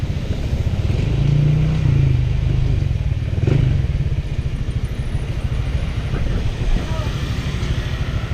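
A motorcycle engine running close by, a low rumbling idle with brief revs that swell and settle, while people talk over it.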